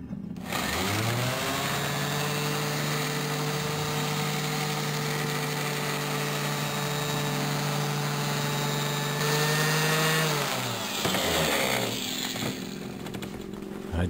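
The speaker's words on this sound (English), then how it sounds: "Use a good random orbital sander." A random orbital sander works steadily against a motorcycle exhaust pipe to strip off heat bluing, giving a continuous loud whirring drone that winds down near the end before a brief restart.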